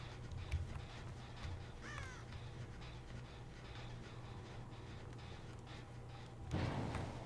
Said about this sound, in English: I did not scare that crow, which just means someone else did.